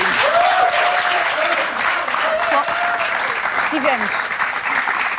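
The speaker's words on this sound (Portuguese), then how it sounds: "Podes bater palmas, Betão, podes bater palmas." A television studio audience on a late-night talk show applauds in a loud, continuous wash of clapping, with voices calling out and talking over it throughout.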